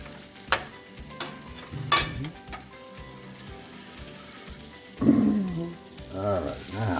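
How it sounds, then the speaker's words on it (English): Grits are stirred in a pan, with sharp scraping strokes and clacks of the utensil at irregular intervals over a low, soft sizzle, heard close and with no speech. "Stir and stir in the grits."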